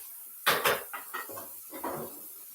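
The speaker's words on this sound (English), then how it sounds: "So here I'm trying to get ahead on the dishes a little bit." Dishes, pots and pans being washed in a home kitchen, with a few loud clattering knocks of crockery and cookware at close range followed by softer clinks and scrapes, no talking.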